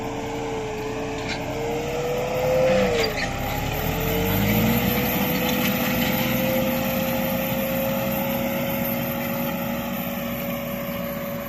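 A Chinese tractor engine runs steadily during spring corn sowing with a two-row corn planter. A continuous, moderately loud drone with a wavering tone dips briefly and recovers, then carries on unbroken.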